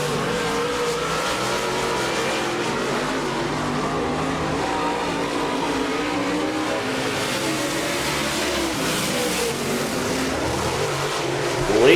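Race cars roar continuously around an oval track, engine drone steady and loud throughout with a swell near the end as cars pass through turns 3 and 4.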